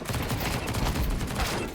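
A grenade bursts in a shooter video game, dense crackling blasts and gunfire-like rumble filling the short stretch at steady loudness, with no voices.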